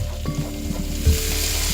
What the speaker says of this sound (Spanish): Cuando vemos que la cebolla está transparente, vamos a echarle el pimiento, el medio pimiento cortadito en trocitos.